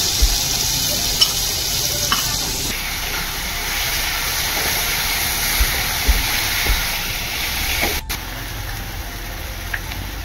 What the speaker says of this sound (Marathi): क्रश केलेली हिरवी मिरची आणि लसूण टाकूया।